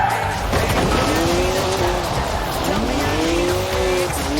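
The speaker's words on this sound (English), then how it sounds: "3-litre straight six, 335 horsepower, 2 turbos, as much sideways action as you like." BMW 1M with a 3-litre twin-turbo straight six in Forza Horizon 4, the engine revving in rising and falling sweeps while tires squeal through a slide, loud and close.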